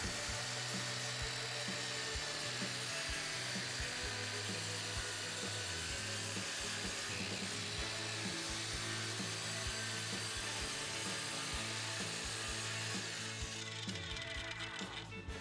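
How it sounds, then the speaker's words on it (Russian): A power saw cuts through facade finishing material for a basement-level exterior wall, running as a steady, close motorized whine with a rough cutting rasp and a low hum underneath, continuous for the whole stretch without pauses. "погнали пилить"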